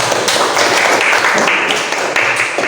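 A classroom audience claps for a student who asked a question during a group presentation, a loud, close burst of many hands clapping in a steady patter with no voices over it.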